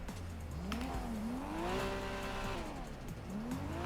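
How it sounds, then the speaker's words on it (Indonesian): A modified car engine with a replaced exhaust revs in a video game, rising and falling in pitch in repeated sweeps over a constant roaring background. "knalpot juga udah gue ganti, mesinnya juga udah gue perbaruin. Suara mesinnya mirip banget"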